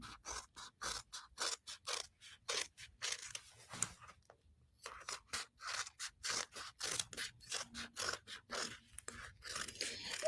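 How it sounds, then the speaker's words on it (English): Scissors snip out a fabric leaf applique for a shirred quilt block, the blades giving a quick run of crisp, rhythmic cuts up close, with a short pause midway before the snipping resumes. "I'm going to go ahead and cut my leaf applique out"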